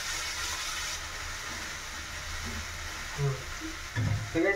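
Noodles hit a hot pan and fry with a steady, close sizzle throughout, with a few louder stirring and scraping bumps toward the end and no voice.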